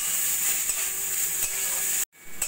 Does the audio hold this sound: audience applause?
no